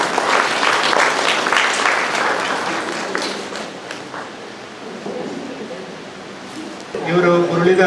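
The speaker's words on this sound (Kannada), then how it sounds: "ಚಪ್ಪಾಳೆ ಬರಬೇಕು ಜೋರಾಗಿ" Loud applause from an audience honouring a former president at a charity trust function, dense clapping that gradually thins and fades, with a voice starting to speak over it near the end.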